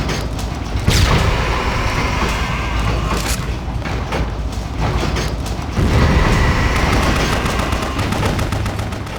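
Gunfire from the video game BloodRayne, loud rapid bursts of shots and booming impacts over a dense mechanical din, with heavy blasts near the start and again around the middle.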